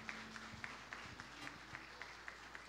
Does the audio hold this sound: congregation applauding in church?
yes